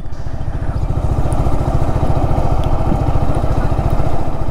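Motorcycle ridden along the Sajek road in the hills, with a steady, loud, rapid engine thrum and rumble close to the mic and no pause.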